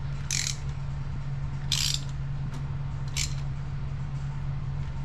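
A ratchet clicks in a few short bursts while parts are tightened down on a 2003 Chevy Cavalier, the bursts spaced apart over a steady low hum; no talking.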